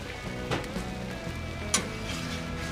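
Oil sizzling steadily with potatoes on a hot Blackstone griddle, a continuous close frying hiss with a couple of brief scrape-like bursts and no talking.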